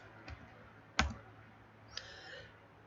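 A single sharp, quiet click of a computer mouse right-click, close and isolated against a faint room hush, with a softer tap before it and another faint click after.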